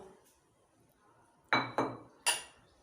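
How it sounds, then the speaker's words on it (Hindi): Onions dropped into a bowl of mashed potato for potato snacks, giving three sharp clinking knocks in quick succession after a quiet start, close and fairly loud. "अब मैं प्याज ऐड कर रही हूँ।"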